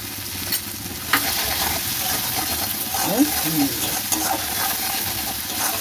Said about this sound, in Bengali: একটু মশলাটা ভাজা ভাজা হয়ে এসছে